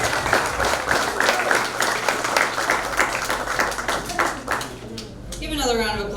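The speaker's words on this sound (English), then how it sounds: "Give another round of applause for James Copeland" Comedy-club audience at a live show at Gold Lion in Richmond, Virginia applauding comedian James Copeland, a loud, close burst of many hands clapping that thins toward the end as a voice starts speaking over it.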